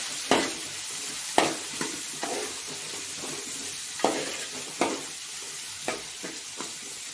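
Tomatoes sautéing in a pan for brinjal and drumstick sambar: a soft sizzle broken by several sharp scraping stirs of a spoon against the pan, spaced irregularly, with no voices.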